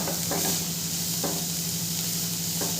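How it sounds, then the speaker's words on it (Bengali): Whole cumin and dried chili powder fry in oil in a kadai while being stirred, a steady close sizzle with a few soft scraping strokes, no voices. "এরপর ভালো করে নেড়ে চেড়ে একটু ভেজে নেব।"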